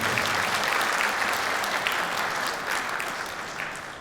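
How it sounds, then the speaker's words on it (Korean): Sustained audience applause at an organization leaders' orientation event in Hongcheon, Korea, loud and steady from the start and slowly tapering off over about four seconds, with no talk over it. "격려와 응원의 박수 한번 주시면 감사하겠습니다"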